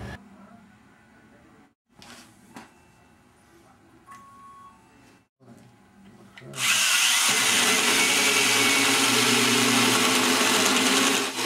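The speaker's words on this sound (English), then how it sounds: "line up the center line of the tube and the hole saw." Drill-driven hole saw in a tube notcher bites into a metal tube, a loud sustained grinding whine after several seconds of quiet clicks and handling.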